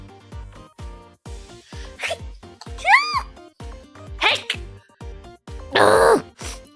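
A sharp, breathy sneeze bursts out near the end, loud and close, after a stretch of voice and short vocal noises.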